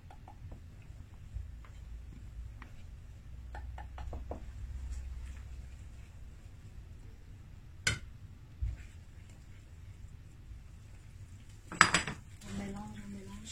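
Metal clinks and scrapes from a utensil in a pan ring out as flour is stirred into choux pastry dough for chocolate éclairs, sparse and quiet with a few sharper knocks near the end, no talking.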